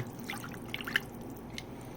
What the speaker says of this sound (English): Try to get this silica off my hands into some water.